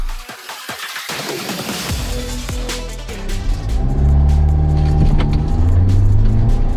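Mahindra XUV700 diesel all-wheel-drive SUV accelerating hard, a steady engine drone rising in pitch and growing louder over several seconds, with rumbling road noise underneath and no talking.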